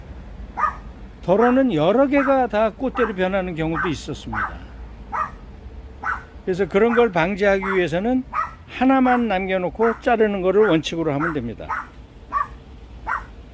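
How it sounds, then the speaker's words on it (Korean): A small pet dog barks again and again in the background, with short sharp yaps scattered through the clip under steady close talk from a person explaining how to trim flower stalks on a plant. "우리 강아지가 자꾸 짖네요."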